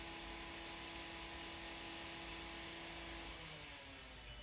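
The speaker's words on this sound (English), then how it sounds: "Well, it's obviously a two-stroke engine." A two-stroke engine runs steadily without load, a constant buzzing drone with a strong, even hum, fairly close and unbroken for the whole stretch.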